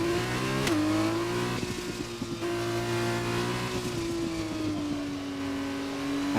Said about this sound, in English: I do love the sound of those cars